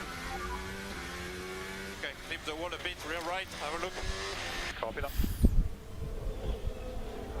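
Formula 1 car braking into a tricky corner during 2023 Azerbaijan Grand Prix qualifying in Baku: a high, buzzing engine whine with quick downshift sweeps, then a low thump, under steady commentary.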